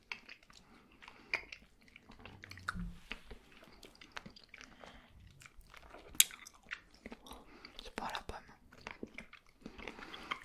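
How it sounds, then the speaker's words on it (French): Hard candy is chewed close to the microphone in an ASMR setting: irregular crunches, bites and wet squishy chewing, with soft French talk in between. "C'est très dur à mâcher par contre."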